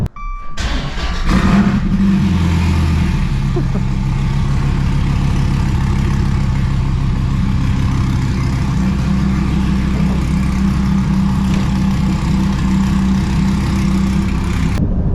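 A Dodge Viper V10 sports car engine cranks and starts, then settles into a loud, steady, burbling, tractor-like idle with a rough rhythmic pulse that continues throughout.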